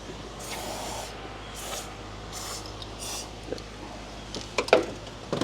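Lubricant sprayed onto stuck fuel injector nozzles in a GM 5.3 engine head: several short hissing spray bursts at a steady pace, moderately quiet, ending with a few small metallic clicks.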